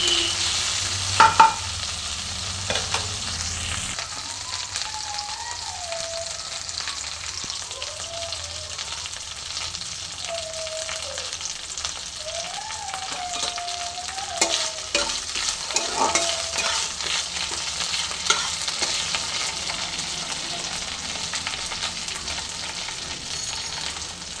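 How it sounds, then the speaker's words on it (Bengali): Night jasmine leaves frying in a pan for a mung dal dish, with a steady soft sizzle and occasional scraping stirs running throughout, close and moderately loud with no talk. "ভালো করে নেড়ে আমি পাতাটা বেশ সুন্দর করে ভেজে নেব"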